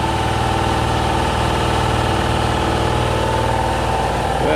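Metal-shaping machine working a lumpy, hand-made sheet-metal cab corner for a 1952 Studebaker 2R5 half-ton truck, a steady loud mechanical drone with rapid vibration throughout, no voices.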